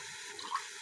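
Tap water runs into a pot to make sugar syrup for kunafa, a brief, soft, steady splashing flow under faint kitchen background.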